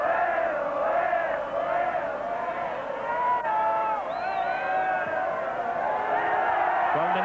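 A full crowd in the main stand at Headingley during a 1969 rugby league Challenge Cup semi-final between Castleford and Wakefield, a dense roar of many voices with rising shouts and whoops, heard under a commentator's talk.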